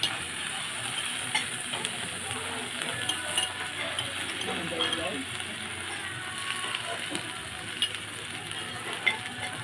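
Chicken cooking in a bubbling shabu shabu hot pot, a steady close sizzle and simmer that runs throughout with small clinks and pops over it.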